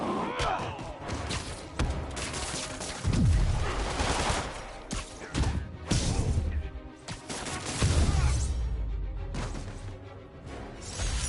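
Gunfire and impacts sound in the Spider-Man video game, with dense bursts of shots, thuds and crashes layered over game effects and shouting voices throughout.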